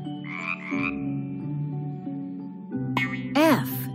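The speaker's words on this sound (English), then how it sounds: "F is for frog." A cartoonish frog croak for a children's alphabet lesson: a few short croaking calls and a springy boing-like sound over a light musical backdrop, with a voice nearby.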